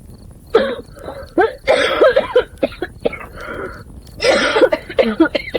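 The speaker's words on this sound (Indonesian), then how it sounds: "kalian pada batuk" Several coughs come in bursts in a horror film scene, some harsh and close, mixed with bits of voice between them.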